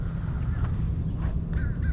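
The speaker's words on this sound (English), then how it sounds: "Those are like little teenage ducks or something." Ducks at a pond near a dock give a few faint, short quacks and honks at a distance, over a low steady rumble of outdoor background.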